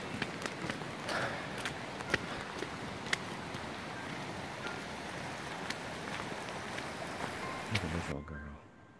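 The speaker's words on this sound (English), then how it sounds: "It is raining like crazy." Heavy rain falls steadily outdoors as a dense, continuous hiss with scattered louder drops and taps. The rain sounds close, with no clear talk, and cuts off abruptly near the end.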